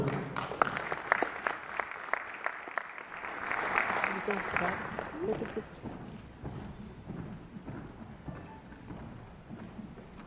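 An audience at an African American scholar awards ceremony applauds the Distinguished Scholar finalists, a thick burst of clapping that swells, then thins out as scattered claps and murmuring voices continue.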